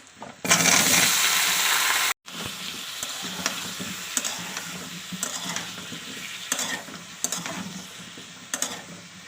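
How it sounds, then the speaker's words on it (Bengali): Potatoes fry with cumin and spices in a pan. A loud burst of hissing oil gives way to a busy sizzle, with spatula scrapes and clinks repeating throughout, close and clear, with no talking. "দু তিন মিনিট ভালো করে আমার আলুটাকে কষে নিতে হবে"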